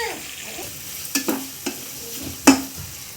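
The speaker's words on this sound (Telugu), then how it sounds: "ఆనియన్స్ ఫ్రై అయిన తర్వాత 2 టమాటాస్ వేసుకోవాలి." Onions and tomatoes frying in a pan give a soft sizzle under a few sharp clacks and scrapes of stirring against the pan, close by.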